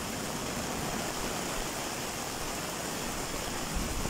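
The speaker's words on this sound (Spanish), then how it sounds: "Está bastante fuerte el agua." Floodwater rushes down the swollen Tecolote creek during a hurricane, a dense, unbroken roar of loud broadband noise that stays steady throughout with no voices.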